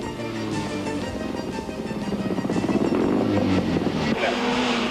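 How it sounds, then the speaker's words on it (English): A rally car on a tight tarred course around Kings Park, its engine roaring nearer and rising in pitch and loudness as it accelerates past. "So here comes car number 2, that's the car."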